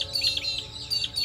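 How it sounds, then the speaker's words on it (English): Birds chirp and tweet outdoors in a quick run of bright, high calls that repeat in short bursts and stay fairly close, with no talking over them. "the birds are really here with us today and having a conversation right now."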